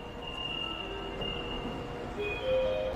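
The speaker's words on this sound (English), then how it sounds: "Here comes the train." A Beijing subway Line 19 train pulls in with a steady rumble and thin, high wheel squeals that rise near the end, with no talking over it.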